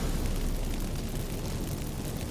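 Magic fireworks from activated incense in The Witcher 3 video game erupt as a dense, continuous rumbling blast, loud and sustained across the whole moment with no talking.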